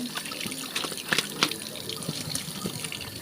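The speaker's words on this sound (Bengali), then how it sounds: "এবার মাছকে ভালো করে ধুয়ে নিতে হবে" Freshwater fish being washed by hand under running tap water in a kitchen sink, a steady close splash and trickle with brief louder sloshes as the fish are rubbed and turned.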